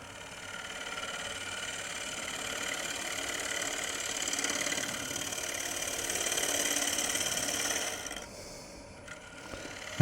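A turning tool cuts a wooden bowl on a wood lathe with a steady whirring, chattering drone at close range. The drone runs continuously, then drops away near the end, leaving a quieter hum.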